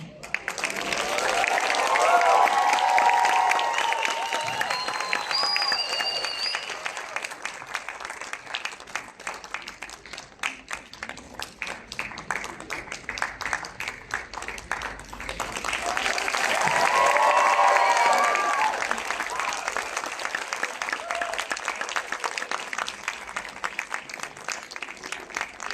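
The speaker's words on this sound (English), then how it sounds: "Ladies and gentlemen, a rousing round of applause" Audience applause at a Bharatanatyam arangetram graduation ceremony, sustained clapping from a large crowd that swells loudly, eases, then surges again, with voices faintly beneath.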